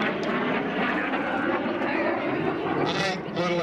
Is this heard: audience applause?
no